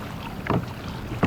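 A kayak is paddled on Donner Lake, with two soft paddle strokes splashing about 0.7 seconds apart over steady wind and water noise.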